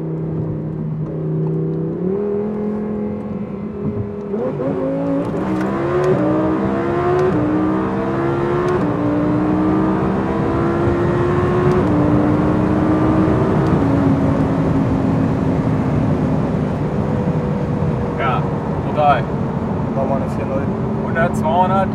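Audi R8 BiTurbo tuned past 1000 hp pulling hard from inside the cabin, engine note climbing through several gears with brief shift dips, loud and continuous while occupants talk over it.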